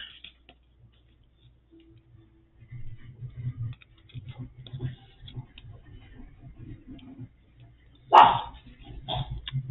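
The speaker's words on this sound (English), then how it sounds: "I apologize for my dog barking at my neighbor who lives here next door." A dog barks in one sharp, loud burst near the end at a next-door neighbor, after a stretch of soft handling noises and quiet tapping from crafting holiday gift card holders indoors.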